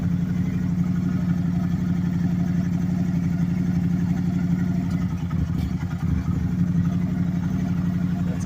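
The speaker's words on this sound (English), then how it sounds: "You can hear that Rotax engine." The Rotax 990 engine of a 2010 Can-Am Spyder RS three-wheeler idles with a steady, deep, rumbling throb, close and continuous, with a slight wobble in the rhythm partway through.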